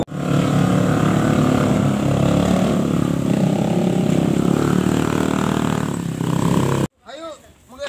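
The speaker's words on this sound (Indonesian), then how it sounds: "Ayo naik motor ayo." A motorcycle engine drones loud and steady nearby as it is ridden, then cuts off abruptly near the end, followed by a brief voice.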